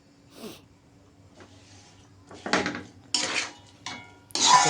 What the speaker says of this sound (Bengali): আমি এই যে সুন্দর করে দুইটাই মিশিয়ে নিচ্ছি